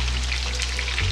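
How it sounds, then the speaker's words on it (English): Veal-and-beef meatballs fry in extra virgin olive oil in a pizzeria kitchen, giving a steady close sizzle with a low hum underneath and no voices. "All right, let's cook these meatballs."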